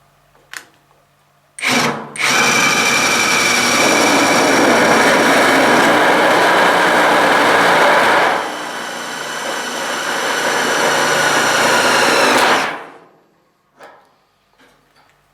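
A Graphite 58G024 cordless impact wrench drives a fastener through sheet metal in one long, loud, buzzing hammer burst of about eleven seconds. Its pitch drops partway through, then it stops abruptly, followed by a few faint clicks.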